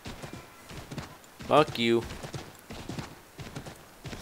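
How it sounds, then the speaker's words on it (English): A horse gallops in the video game Assassin's Creed 3, its rhythmic clip-clopping hoofbeats running steadily throughout while someone talks over them, with a louder burst in the middle. "Sprinting on a horse."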